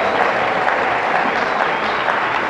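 A church congregation applauding and cheering to glorify God during a worship service, dense sustained clapping from a large crowd, loud and continuous throughout.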